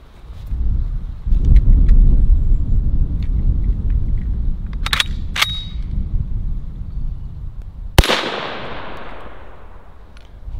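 An M1 carbine fired at a paver brick outdoors, with one sharp loud report and metallic clang near the end after a stretch of low rumbling background and faint ticks.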